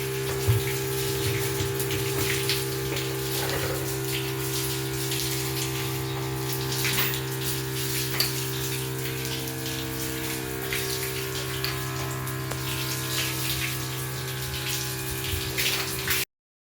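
Water running from a fountain gives a steady, even rush of flowing water with a constant mechanical pump hum underneath, continuing without pause and with no speech.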